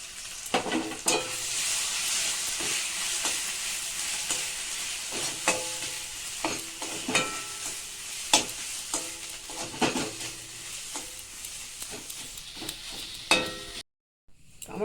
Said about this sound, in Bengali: এবার তেলের মধ্যে আমি পোস্ত বাটাটা দিয়ে দেবো।